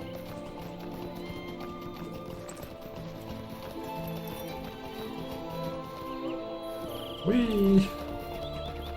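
Horse hooves clip-clop at a steady gallop in the video game Lord of the Rings Online, with a whinny near the end and a playful voice exclaiming over the top.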